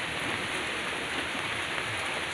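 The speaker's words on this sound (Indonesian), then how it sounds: "kalau di sini masih hujan, Bang Sipal mau pulang aja masih hujan" Steady rain falls at a roadside food stall in Indonesia, a dense, even hiss of drops pattering on surfaces that runs unbroken through the whole moment with no voices.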